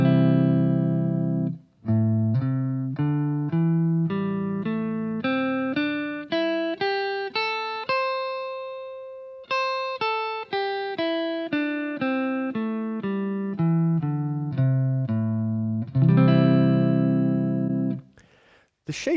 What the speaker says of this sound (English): play the scale shape ascending and descending using alternate picking